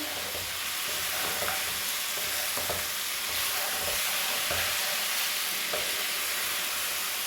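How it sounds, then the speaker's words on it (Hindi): Chicken pulao frying in a pan with salt and masala, a steady loud sizzle with occasional stirring scrapes, close and continuous without speech. "तो अभी मैं इसको थोड़ा सा और फ्राई कर लूँ।"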